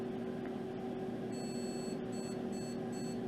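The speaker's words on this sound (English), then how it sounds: "And we still have 6 beeps." Repeated electronic error beeps from a graphics card test setup, a series of short, thin tones sounding in quick succession over a steady, faint hum of fans.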